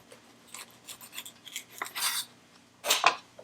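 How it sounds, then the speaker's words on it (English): Knife slicing through shrimp on a cutting board: a few soft scraping and crunching cuts with small taps, close and quiet, ending in a sharper pair of strokes. "I'm just gonna cut the shrimp in half."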